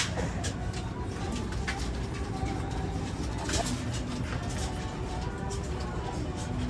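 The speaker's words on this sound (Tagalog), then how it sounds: "Dami tayong ibon dito" Pigeons coo softly amid a steady outdoor din of traffic and background noise, with occasional louder rustles.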